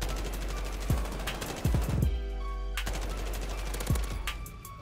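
Light machine gun fire in Black Ops, with short rapid bursts of sharp gunshots, several clustered volleys and brief pauses, loud and close, and no talk.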